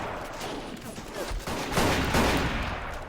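Dense rifle and machine-gun fire from the WW1 video game Battle of Empires 1914-1918 in an urban battle, a loud continuous crackle of overlapping shots with rumbling bursts growing heavier toward the end.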